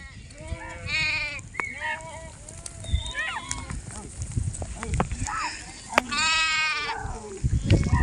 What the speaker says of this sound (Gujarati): હા બધે જ્યાં જોવો ને બધે બકરા છે.